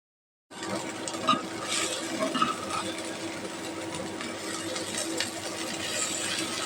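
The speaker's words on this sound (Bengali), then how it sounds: "এক করে সব পেঁয়াজের বড়াগুলো উল্টিয়ে পাল্টিয়ে নিলাম" Onion fritters (piyajer bora) frying in a pan of oil at home, a steady dense sizzle running throughout with occasional light scraping and clinks as they are turned.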